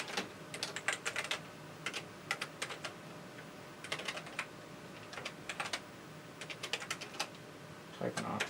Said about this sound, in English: Typing off to the side.